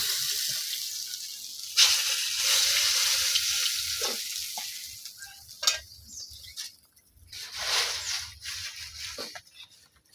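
Chopped onion and chilli frying in hot oil, a bright steady sizzle that flares up loudly as the ingredients hit the pan, then quiets and swells again with occasional stirring clinks.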